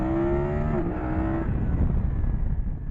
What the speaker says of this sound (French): Là je suis en première, on va faire un petit accel.